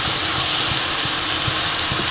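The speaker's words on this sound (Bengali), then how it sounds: "এর মধ্যে কেটে রাখা চিচিঙ্গাটা দিয়ে দিচ্ছি" Cut snake gourd dropped into a pan of lightly softened onions, giving a steady, loud broadband sizzle and hiss that runs continuously close up, with faint low bumps from the pan underneath.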